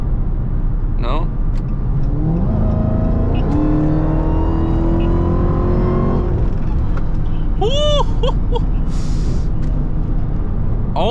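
A Dodge Charger Hellcat in track mode pulls hard with a rising supercharger whine over the engine roar, heard from inside the car, followed by a sharp whistling sweep near the end.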